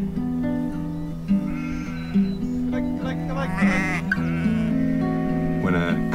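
Several sheep bleat repeatedly in wavering, overlapping calls, close by, with a steady low background drone throughout.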